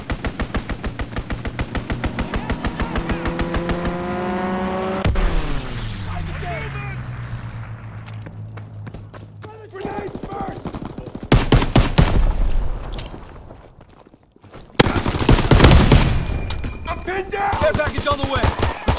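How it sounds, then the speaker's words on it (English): Fighter aircraft strafing run in the Call of Duty WW2 video game: a descending engine roar sweeps past, then bursts of heavy machine-gun fire and loud impacts follow, with announcer voice lines at the start. "Fighter aircraft ready! Call for a strafing run!"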